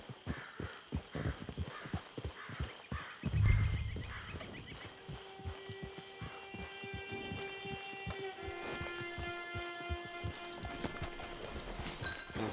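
Steady clip-clop of horse hooves at a walking pace in the video game Red Dead Online, soft and regular, joined later by a low sustained hum and faint tonal music.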